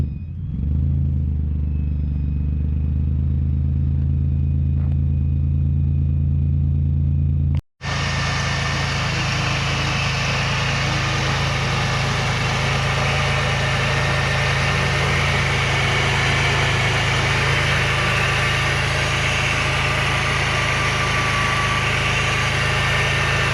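A car engine running on E85 fuel cranks briefly and catches, then settles into a loud, steady idle with a constant low rumble that continues unbroken to the end.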